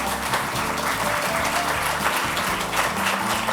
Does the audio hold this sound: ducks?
no